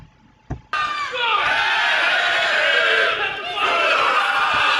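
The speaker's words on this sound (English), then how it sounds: "Listen to that loud chant by the crowd." A Coastal Wrestling crowd chanting loudly and steadily in a packed venue before a Bryce Cannon versus Matt Odam match, the chant sustained for several seconds after a brief thump, with one short dip in the middle.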